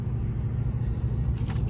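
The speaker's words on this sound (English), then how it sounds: "I am just about done driving the truck here." Low, steady engine and road rumble from a Ram 1500 pickup truck being driven, heard from inside the cab with no talking.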